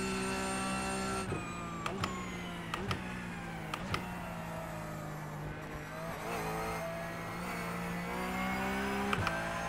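A GT race car engine in a sim racing video game drones steadily, its pitch rising and falling with throttle, punctuated by sharp gear-shift clicks at irregular intervals.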